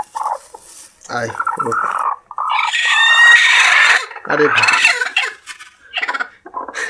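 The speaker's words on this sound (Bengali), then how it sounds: "ওই মুরগি চিল্লা শুরু করছে, এর দেখা দেখি ওই মুরগিও চিল্লাইতেছে" Black hens squawk and cackle loudly at close range in repeated bursts, one call setting off another, while someone briefly speaks between them.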